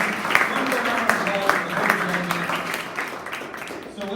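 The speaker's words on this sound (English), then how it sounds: "Round of applause for Holly" Audience applause at a pitch competition's opening remarks, a steady wash of clapping from a crowd that holds for several seconds and tapers near the end.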